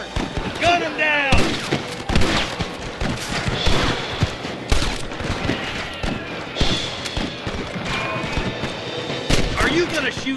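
Gunfire crackles through a Red Dead Redemption shootout with rustlers, with repeated sharp shots and bursts scattered across the whole stretch, loud and close, mixed with game voices and background noise.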